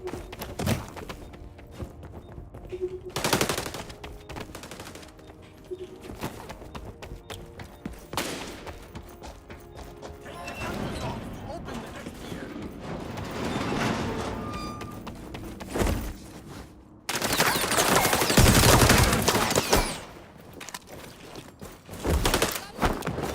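ACR rifle fire in a Call of Duty style shooter match: repeated bursts of gunfire and thumps scattered over a noisy game soundscape, with one long loud stretch of continuous firing near the end.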